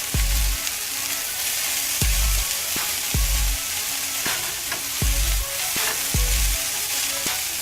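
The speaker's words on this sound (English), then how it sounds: "So we want to mix in the red pepper and the cabbage and everything with it." Chicken with red pepper and cabbage sizzles loudly in a hot pan, with repeated utensil scrapes and stirs striking at a steady, roughly regular pace, close up and without talk.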